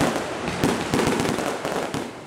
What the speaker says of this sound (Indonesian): letusan pesta kembang api menggelegar isi stadion